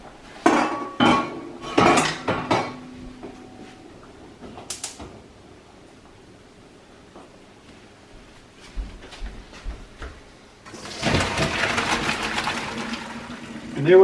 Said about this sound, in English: So we're going to strain our potatoes.